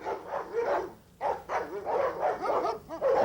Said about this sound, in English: only the snooper dogs remained.